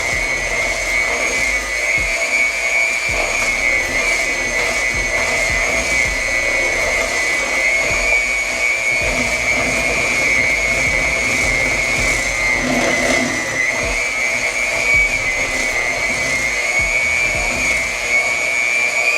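An electric mixer beating green mint-tinted cake batter, a loud continuous motor whir running steadily throughout, close and unbroken.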